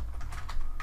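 Rapid keystrokes on a computer keyboard patter close by in a short, continuous burst over a low background hum.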